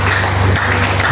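Church congregation applauding during a Friday teaching service, a steady wash of clapping with a low hum underneath, continuous for about a second.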